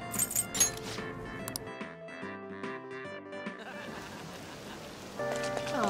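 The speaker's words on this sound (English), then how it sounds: "Oh, this rain is so annoying." Steady rain patters in a Persona 5 Royal game scene, a soft continuous hiss under background game music, growing slightly louder toward the end.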